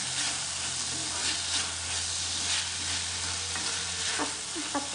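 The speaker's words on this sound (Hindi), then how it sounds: "बीन्स, कैरेट, ग्रीन पीस को डालकर अच्छे से मिक्स कर लीजिए।" Beans, carrots and green peas stir-frying for fried rice, an even bright sizzle held steady with soft scraping and a few light clicks of a spatula near the end, close and unvoiced.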